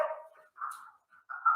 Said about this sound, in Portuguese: Aqui o outro latido.